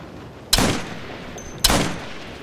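Two loud, close bursts of squad gunfire from the military video game Operation Flashpoint: Red River, each a sharp crack that fades out over about half a second, with a quiet pause between them.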